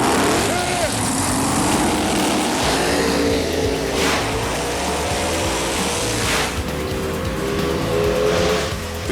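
A drag race between a Cutlass and a Chevy at Memphis Motorsports, with engines roaring steadily at full throttle for the whole stretch, loud and sustained, while a commentator talks over the noise.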